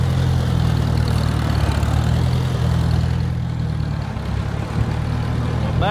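An antique Farmall Cub tractor idles with a steady low, close rumble while it reverses into a barn, the engine note dipping slightly near the end.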